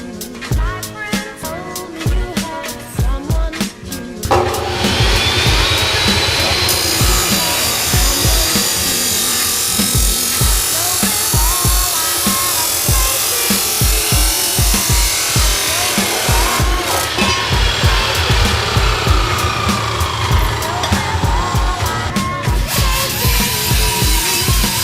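A power saw cuts through a metal turbo downpipe during K20 Civic fabrication, a loud steady grinding whine that runs almost continuously for over twenty seconds after a few short starts, with brief pitch shifts as the blade bites.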